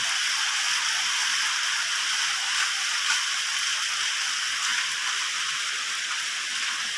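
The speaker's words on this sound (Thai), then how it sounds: "ฝนตกพอดี" Steady rain pours down outside a house in Thailand, a dense, even hiss of drops with occasional louder splats, heard alone without voices.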